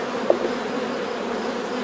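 Honeybees buzzing at the hive during a spring colony check, a dense, steady drone of many bees close by with a brief sharper buzz near the start.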